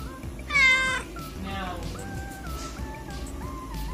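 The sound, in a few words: cat meowing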